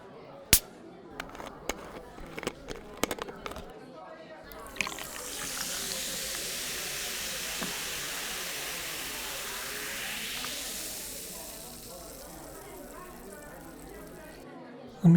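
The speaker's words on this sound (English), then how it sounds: "Let me get those bubbles nice and fizzy for you." A few sharp clinks at the start, then a steady fizzing hiss of Perrier sparkling water being poured, sustained for several seconds before tapering off.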